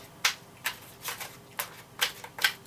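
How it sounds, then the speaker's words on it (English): Tarot cards are shuffled close up in a quiet room, six or seven short crisp riffling bursts spaced irregularly, soft and alone. "And let's just shuffle these cards."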